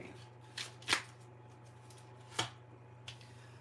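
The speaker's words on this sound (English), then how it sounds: "I've shuffled this deck how many times today?" A deck of tarot cards being shuffled by hand: a few distinct riffling bursts, spaced irregularly and fairly close, with quiet room tone between them.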